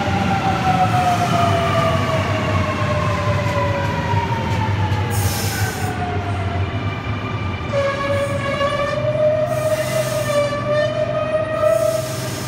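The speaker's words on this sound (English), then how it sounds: "We have a City Circle service arriving onto platform 1." A Sydney City Circle train pulls into a platform at Wolli Creek station. Its loud, close electric motor whine glides steadily downward in pitch over a constant rolling rumble. The sound is heard alone, with no voices.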